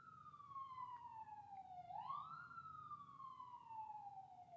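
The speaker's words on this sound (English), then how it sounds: "Ignore the sirens in the background." A police siren wails in the background, its pitch sliding down, jumping up, then falling again as it sounds from a distance.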